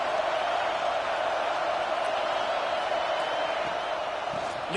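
A football stadium crowd roars in a loud, steady, continuous wash of cheering that holds without a break.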